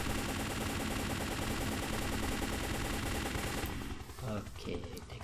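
A helicopter's gun fires in an Unreal Engine game, rapid machine-gun bursts rattling in a fast, even stream for several seconds before cutting off into a few scattered quieter sounds.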